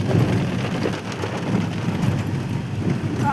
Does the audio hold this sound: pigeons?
no